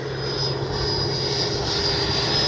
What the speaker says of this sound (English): That afterburner, KM Models, thank you so much for that afterburner.